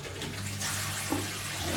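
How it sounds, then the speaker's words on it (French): Water spraying steadily from a homemade shower fitted to a bathtub, a soft continuous hiss and patter for a short moment. "Je ne sais pas si on va bien voir par contre les gouttelettes d'eau."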